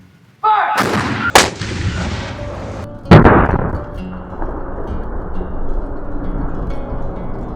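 Ranger demonstration volley of black-powder gunfire at a park: a huge close blast followed by a second sharp shot and another loud report, each trailing off in long rolling echoes and smoky ambient rumble.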